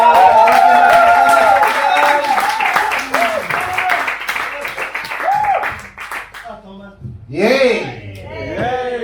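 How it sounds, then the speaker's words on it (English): Audience applause and clapping at a Penang stand-up comedy show, dense and loud for several seconds, then thinning out, with a speaking voice running over and after it. "so I want to give a big round of applause once again."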